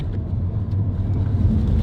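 A car rumbles as it pulls away, a low, close engine drone with a slight rise in effort, steady and without talk over it.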